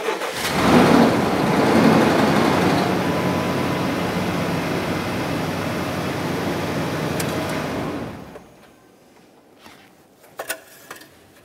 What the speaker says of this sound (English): start the engine.